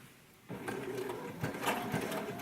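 A Baby Lock sashiko sewing machine stitches across a seam on a vest, its steady mechanical whirr starting after a brief quiet moment and running continuously at close range.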